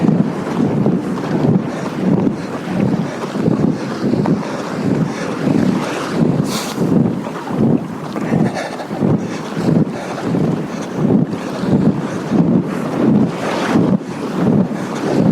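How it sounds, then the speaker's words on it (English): Wind blowing at a beach, buffeting the microphone in strong, uneven gusts over the steady wash of surf, with no voices. "Yep, I'm now into the wind."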